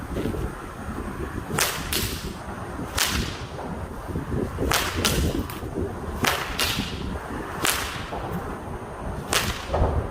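A whip fitted with a brand-new whipcracker snaps out a string of about nine sharp, loud cracks at uneven intervals over a steady rumble of background noise, with no talking.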